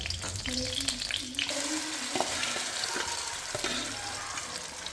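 Lentils frying in desi ghee sizzle softly and steadily close by, with a few light stirring clinks of a spoon against the pan.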